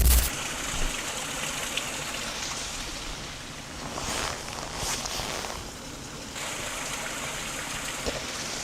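Water flowing in a stream close by at a campsite, a steady broadband rush with brief surges and scuffing movements near the middle, no talking.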